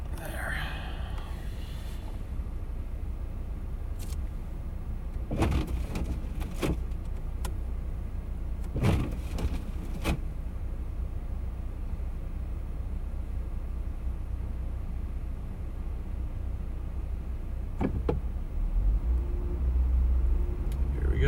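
A rear-wheel-drive 2WD truck drives slowly over an icy road during the 2019 Ontario ice storm, a steady low cabin rumble with a few scattered clicks and knocks inside, and someone speaking quietly over it.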